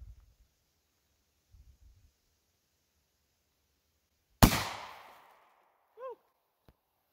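A single sharp, loud gunshot from a Glock Model 40 pistol with a 6.5 inch KKM barrel firing a 10mm 155 grain XTP handload rings out in an outdoor setting, trailing into a decaying echo, with a faint metallic ping shortly after and brief low rumbles beforehand.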